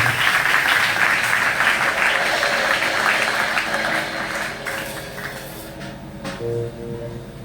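An audience in a hall at a graduation ceremony applauds a professor, dense sustained clapping that gradually thins and fades, with faint voices near the end.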